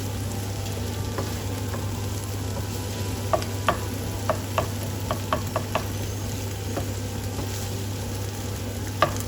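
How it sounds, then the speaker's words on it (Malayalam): Tomatoes and frozen green peas fry in a pan, a steady close sizzle running throughout while a spoon stirs and scrapes, giving a string of short, sharp clinks through the middle of the stretch. "തക്കാളി ഒന്ന് കുക്കായി വരട്ടെ. നമ്മുടെ ഗ്രീൻ പീസ് ഒന്ന് ഹാഫ് കുക്കായി വരണം."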